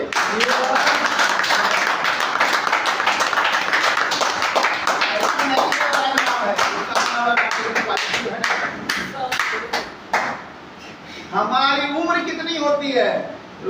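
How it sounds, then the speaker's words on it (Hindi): Loud clapping and applause from an audience at a talk on keeping youth away from drugs, dense and continuous through the first ten seconds, then breaking off as a voice speaks at the end. "जोरदार ताली।"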